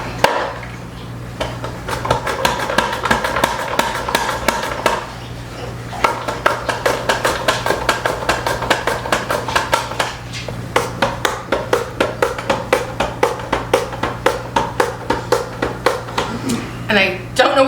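Scrubbed potatoes are slid over a mandolin slicer in a rapid, even rhythm of crisp close slicing strokes. A few short pauses break the run, and a voice talks quietly underneath.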